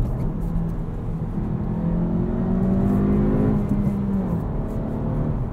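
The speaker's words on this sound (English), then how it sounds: "I've set my engine to comfort, so we get a little bit less engine noise" A 2023 Acura Integra with a 6-speed manual drives with its engine set to comfort mode, giving a steady, moderate hum. The engine note climbs in pitch under acceleration and then eases off, heard clearly from inside the cabin with no talking.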